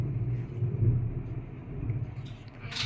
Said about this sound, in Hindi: इस तरह से बादल गरज रहे हैं,